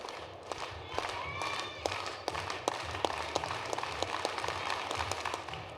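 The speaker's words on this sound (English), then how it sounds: "Let's get these rhythmic claps going, huh?" Crowd clapping in unison at an outdoor high jump competition, steady rhythmic claps repeating about once a second over a broad murmur of spectators, with voices in the background.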